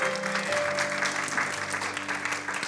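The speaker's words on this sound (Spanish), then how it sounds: "denle ese aplauso fuerte al Señor." A church congregation claps for the Lord in a steady burst of applause, with a sustained organ or keyboard chord ringing underneath.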